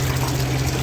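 Zamzam drinking water pours from an opened tap at the Sheikh Zayed Grand Mosque in Abu Dhabi, a loud, constant gushing rush with a low steady hum underneath.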